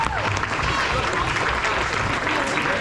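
Steady, dense applause from a crowd at an end-of-season banquet for high school cheerleading and boys' JV and varsity teams, with voices mixed in beneath the clapping.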